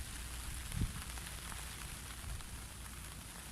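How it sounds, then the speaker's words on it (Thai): Steady rain falls outdoors at a natural fishing spot, a continuous, even hiss of drops pattering on surfaces, with one brief low thump partway through and no voices. "ตอนนี้ฝนตกนะครับ"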